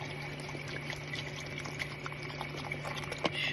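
Water pours steadily into a cooking pot for potatoes at a campsite, a continuous bubbling, splashing stream at close range with no talking.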